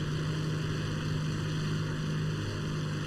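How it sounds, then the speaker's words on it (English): A propeller fighter engine, the Tempest in War Thunder, drones at a constant loud, even pitch throughout with no breaks or voices. "I'm just hoping you guys can hear me over this plane"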